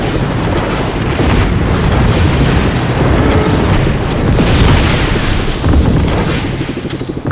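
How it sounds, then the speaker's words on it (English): Grenade launcher explosions in Just Cause 3 form a loud, sustained roar of overlapping booms and blasts that rise and fall over several seconds, with no voices. "Especially with the grenade launcher."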